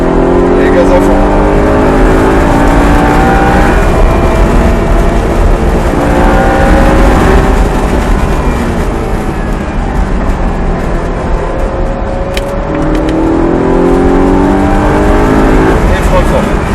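An Audi R8 accelerating at full throttle around the Haute-Saintonge race track, its engine note climbing steadily in loud sustained sweeps, with an instructor's voice speaking over it.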